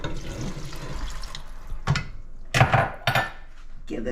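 Water pours into a pot in a few short splashy bursts, with clinks of cookware between them in a quiet kitchen.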